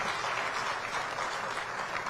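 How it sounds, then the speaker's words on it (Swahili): A gathered audience at a stadium construction announcement claps in a brief, dense burst of steady applause that sounds fairly close and full. "Tuwapige makofi tafadhali."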